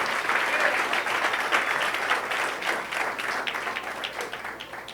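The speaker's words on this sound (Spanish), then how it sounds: "Aplaude fuerte, cree esa palabra," A church congregation applauds loudly during a Spanish-language sermon, a dense, steady wash of many hands clapping that stays strong throughout and tapers slightly at the end.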